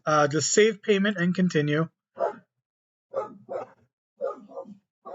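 Dogs bark in a quick burst of several yelps early on, indoors, then a person talks quietly in short phrases.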